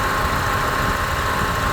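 Honda CR-V engine idling with the AC compressor clutch engaged and spinning, a steady, dense mechanical hum and whir heard up close with no change across the short stretch.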